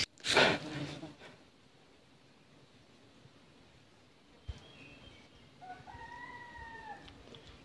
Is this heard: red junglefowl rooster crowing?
yes